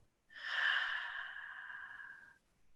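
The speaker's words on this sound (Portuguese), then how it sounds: "enchendo bem o pulmão, estendendo o abdômen e soltando pela boca" A single long, deep breath pushed out through the mouth during a calming breathing exercise, heard close and alone, with a breathy rush that swells quickly and then tapers off over about two seconds.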